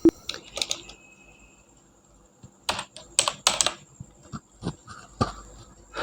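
Keys clatter on a computer keyboard during Tally accounting entry, with short bursts of close typing and a firm Enter press, separated by quiet pauses.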